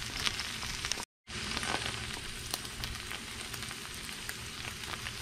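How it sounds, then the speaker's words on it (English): Eggs frying in a pan alongside fries, a steady close crackling sizzle with scattered pops that continues throughout, briefly cut by a short gap of silence near the start. "So I put the eggs on when the fries are just about done."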